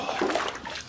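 Water splashes and sloshes in an outdoor horse trough as a person washes himself, a short, close burst of wet splashing without any speech.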